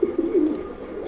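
A pigeon gives a single short, close coo, a soft throaty murmur that fades out within about a second.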